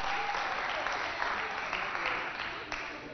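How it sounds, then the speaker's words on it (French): Studio audience applauding two contestants on a televised youth competition game segment, steady dense clapping lasting throughout, loud and close with no talk over it. "Applaudissez très fort pour accompagner nos deux candidats."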